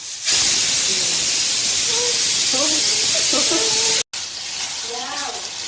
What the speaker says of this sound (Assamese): কুকাৰ চিটি মাৰিব